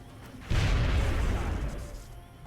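A grenade detonates in the video game Long War (XCOM) with a sudden, loud booming blast that rumbles deeply and then fades away over about two seconds.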